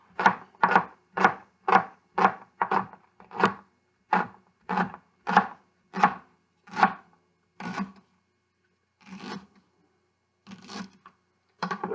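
Leeks being chopped with a knife on a cutting board for cock-a-leekie soup, a quick run of about a dozen crisp, evenly spaced chops that slows and thins out into a few scattered cuts, close and clear with no talk.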